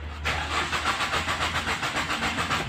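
A Toyota Etios petrol engine cranks repeatedly without catching, a steady rhythmic starter churn pulsing about five times a second, close and fairly loud with no voices.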